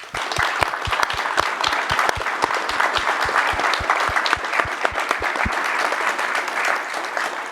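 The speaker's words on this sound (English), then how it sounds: "let's give them a round of applause" An audience at a business, race and society forum breaks into applause, a steady, fairly loud stream of many hands clapping, with a few close individual claps standing out through the first part and no talk over it.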